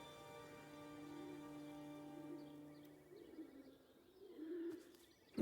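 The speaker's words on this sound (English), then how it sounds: "I can hear birds. I can hear pigeons." Pigeons cooing softly in a quiet English village, a few low repeated coos at moderate distance over faint ambient background, with a sudden noise at the very end.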